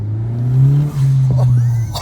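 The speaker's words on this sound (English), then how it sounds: "get some high RPMs in there" A 2020 Honda Civic Si with a PRL cold air intake revs up in a short, loud, close rising burst, then dips, revs again and settles, with a low engine drone throughout.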